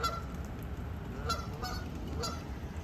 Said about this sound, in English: It's 2 geese and their little babies.